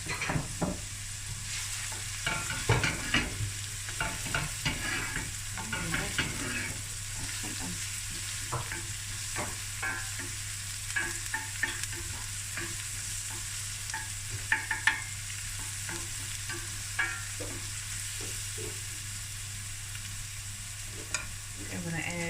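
Garlic sizzles steadily in a hot pan for a tuna coconut curry, with a spoon scraping and stirring through it in close, intermittent clacks over the constant frying hiss.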